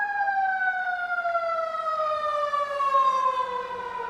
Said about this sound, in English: As an actor, instinctually, I hear a siren, I would stop and wait for it to pass.